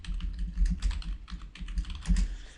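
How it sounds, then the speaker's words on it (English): Rapid keystrokes on a computer keyboard as a search query is typed, a steady run of close, crisp clicks in uneven bursts with brief pauses. "I'm going to type in wedding speeches"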